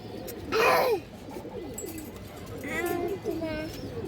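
A female pigeon of a fancy breed coos in soft low bursts, with a brief louder flutter-like burst early on, heard close amid background voices and room noise.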